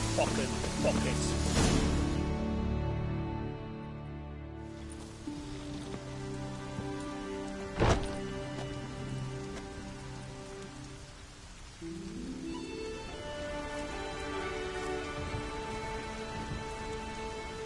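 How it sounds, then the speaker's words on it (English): Heavy rain pours steadily in The Witcher 3 on the Isle of Mists, a dense continuous wash with a brief louder crack partway through, while music and a voice carry on over it. "Rain in fucking buckets."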